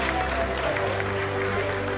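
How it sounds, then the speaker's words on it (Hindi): Applause from staff in ISRO mission control during a lunar landing, a brief, fairly soft patter of clapping over a steady room hum. "आप तालियों के गड़गड़ाहट से सुन सकते हैं कि हम लोगों ने तीसरे चरण को भी बहुत ही"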